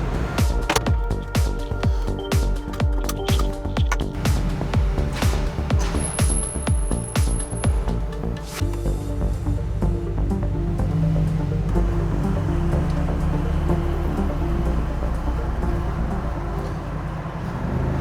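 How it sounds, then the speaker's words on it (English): A stage 2 tuned Mercedes G-Wagon, louder than stock, with a loud engine rumble that carries a busy, crackling stretch before settling into a steady, heavy drone. "it is supposed to be a stage 2 one, because it is a bit louder than the stock one"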